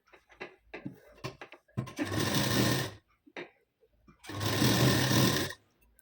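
Sewing machine stitching a blouse piece onto its lining for a double katori blouse, running in two sustained bursts of steady whirring, with short stuttering starts and stops of the machine between them.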